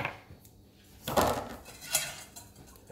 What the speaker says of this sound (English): So what we're gonna do now, I'm gonna put it in the pan.